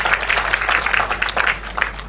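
A church congregation claps together in a brief, dense burst of applause lasting about two seconds, fairly close and moderately loud.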